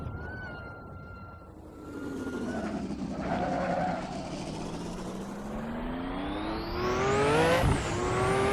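A race car with boost pressure turned up to 80% accelerates hard around the Longford circuit in Assetto Corsa, its engine note climbing steadily through the gears with a short dip before rising to a loud, high-pitched scream.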